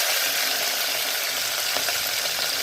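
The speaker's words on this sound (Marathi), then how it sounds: "आपण जर कढीपत्ता घातला आता फ्राय करून मस्त" Curry leaves and garlic frying in hot oil for a dal tempering, a steady, loud, dense sizzle with faint crackles and pops throughout, no voices.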